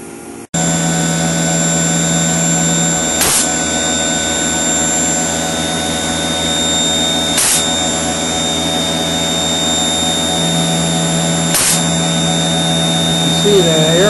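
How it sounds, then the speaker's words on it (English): HAAS TM-1P CNC machine engraving an LED edge-lit sign, with a steady loud spindle whine and hum while the programmable coolant air nozzle adds sharp periodic blasts every few seconds. "You see the air blast nozzles blowing the tips away."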